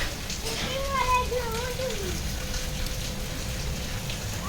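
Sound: heavy rain falling

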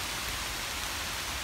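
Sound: rain falling outdoors at a state park

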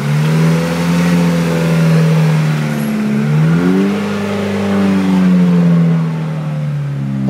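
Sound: 1998 Neon car engine starting and revving

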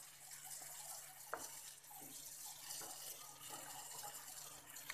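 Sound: water being poured into kadhi

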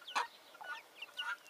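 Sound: young rooster

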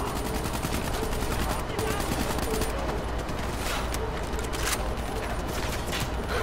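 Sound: gunfire in a video game battleground

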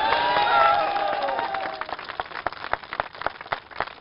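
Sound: audience applause

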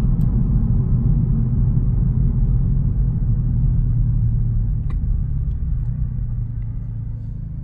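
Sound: Camaro car driving on the road

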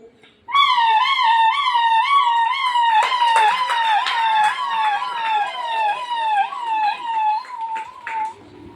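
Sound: ambulance siren imitated by voice

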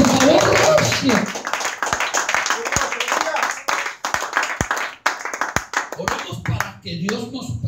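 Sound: congregation clapping hands as an offering

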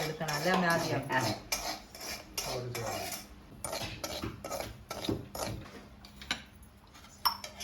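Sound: semolina (rava) being roasted and stirred in a pan

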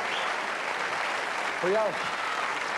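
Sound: studio audience applause on TV show

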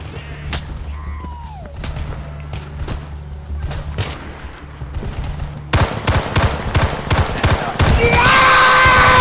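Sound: gunfire in a video game

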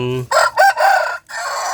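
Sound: rooster crowing, Thai game fowl

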